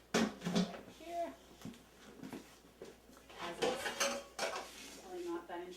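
Bowls and dishes clatter while someone picks out a bowl in a home kitchen, with scattered clinks of pots and cutlery and a voice talking faintly nearby.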